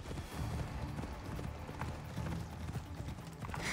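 Horse hooves clip-clop at a steady trot in the Assassin's Creed Odyssey video game, close and continuous with a busy background of game ambience and mechanical clatter.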